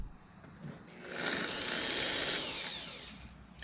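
A Griot's Garage G9 polisher runs at its lowest speed, giving a steady, close whirring hum that swells after about a second and holds evenly before easing slightly toward the end.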